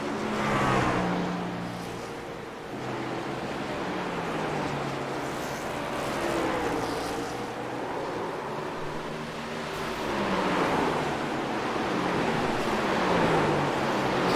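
A racing truck's engine drones steadily under onboard or trackside pickup, its pitch rising and falling through corners in a higher gear, loud and continuous with no talk.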